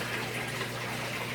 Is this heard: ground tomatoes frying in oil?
no